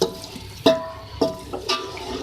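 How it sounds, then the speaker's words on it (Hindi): A cup of water added to a pot of aloo matar pulao, heard as several separate splashing pours and clunks at irregular intervals, close and fairly loud, with no talking. "मैं एक कप जो है पानी ऐड करूँगी।"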